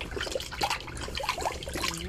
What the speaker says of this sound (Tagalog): So ngayon naman ay ating huhugasan, syempre sa malinis na tubig.